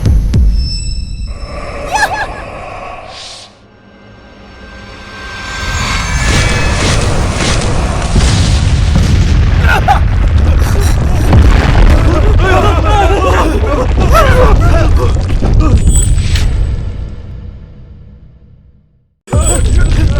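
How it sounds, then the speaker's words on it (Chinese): A mountain blowing up in a drama scene: a deep, long rumbling boom swells and roars for many seconds, then dies away to a sudden silence, with dramatic effects on top and voices over part of it. "这山真的炸了！"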